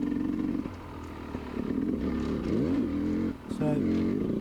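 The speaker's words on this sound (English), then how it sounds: "you can hear the bike as it goes over the logs" A Sherco SE 300 Factory dirt bike rides over logs in bushland, its engine droning and rising in pitch as it climbs, with a brief dip and a clunk before pulling away again.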